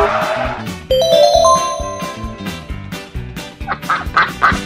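Loud nasal quacks in a rapid series, mixed with a bright ringing tone and other bird-like honks, close and busy.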